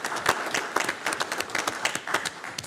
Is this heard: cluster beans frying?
no